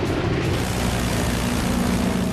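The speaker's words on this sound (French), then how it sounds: "Le moteur Pratt & Whitney R2800 hurle sous l'afflux de 300 chevaux supplémentaires" A supercharged Pratt & Whitney R2800 radial aircraft engine roars at full power in a wartime fighter, a loud, steady, close drone with no talking.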